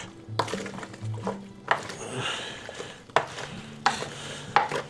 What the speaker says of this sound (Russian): Взял 1 ложку и вот ложкой сейчас так перемешаю.